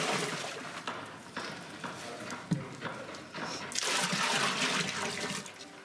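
Water pours into a pot in the historic kitchen of Haddon Hall, a steady rushing splash that swells louder toward the end, close by, with a single knock partway through and no talk.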